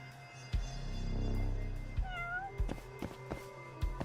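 Cat meowing in the video game Judgement, a rising-falling meow near the middle, set amid game background sounds and several sharp knocks.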